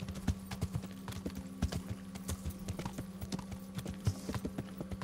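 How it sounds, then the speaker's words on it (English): Horse hooves clip-clop in a steady walking rhythm in the Kingdom Come: Deliverance video game. The hoofbeats are close and even, with a faint constant hum beneath them and no talking. "Pebbles, the best horse in all the land."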